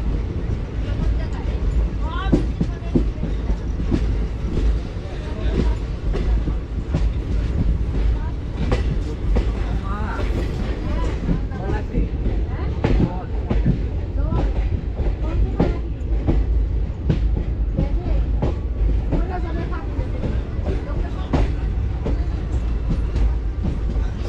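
The Teesta Torsa Express, running late near Jangipur Road, rolls along its rails with a continuous rumble and rhythmic clickety-clack heard from inside the train, with voices talking over it.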